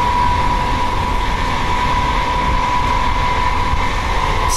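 Perth A-Series electric train running in daylight, heard from the middle of the carriage beside a doorway: a loud, steady rumble with a constant whine that carries through the whole stretch with no talk.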